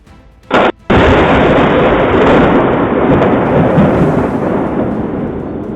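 Thunder from a lightning storm over Richmond opens with a sharp crack, then breaks into a loud, sustained rolling rumble that slowly eases.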